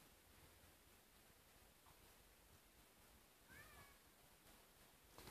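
A cat at a window gives a faint, short meow partway through an otherwise very quiet room, with light rustling near the end.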